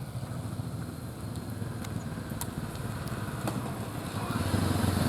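A motorcycle in second gear on a slope runs at a small, light throttle, its engine a steady near drone that swells slightly toward the end.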